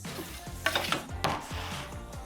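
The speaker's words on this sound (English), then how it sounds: "Stir on low heat." A spoon stirring strawberries, sugar and chia seeds in a pot over low heat, soft scraping strokes with a couple of brighter clinks against the pot rim and a faint bubbling underneath.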